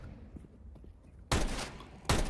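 Two sharp pistol shots ring out in a competitive CS:GO-style tournament semi-final match, each a loud broadband crack, about a second apart, over a quiet background.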